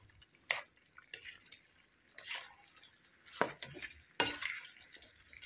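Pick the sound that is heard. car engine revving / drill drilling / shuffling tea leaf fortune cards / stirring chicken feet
stirring chicken feet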